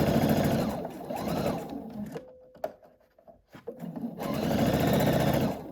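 A sewing machine runs in two long, steady stitching bursts as it joins quilt block units for a rainbow sampler, pausing midway with small handling clicks and taps before the motor hum resumes.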